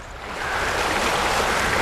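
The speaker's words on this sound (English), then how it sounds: "The fish live in raceways, and it is a virtual river." Pure mountain lake water rushes steadily through trout farm raceways in the Blue Ridge Mountains, a loud, continuous broadband wash that swells in during the first half second, with no voices.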